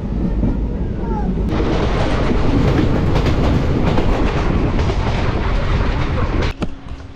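A 13063 Balurghat Express passenger train rolls along on its run, its loud, steady roar and rattle filling the scene from start to finish, with a brief sharper clatter near the end as the noise drops slightly.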